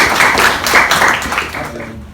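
An audience at a labour-market and addictions panel breaks into applause, a short, close burst of clapping that fades out within about two seconds.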